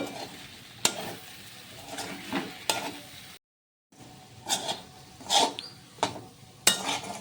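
A spoon stirs jute leaves with shrimp in a cooking pan, giving repeated scrapes and clinks against the metal over a quiet simmer. The strokes come in irregular bursts with a brief silent gap midway.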